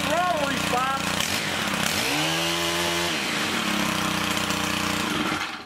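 Small carburetor engine, freshly fitted with a carburetor kit, purge bulb and air cleaner, roars to life after a pull start, revving loudly and close with rising and falling throttle, steady buzzing drone throughout.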